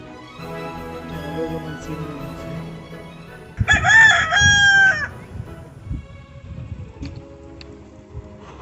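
A country chicken rooster crows once loudly and close in a rural yard, the long call rising over a background of clucking hens and low murmuring voices.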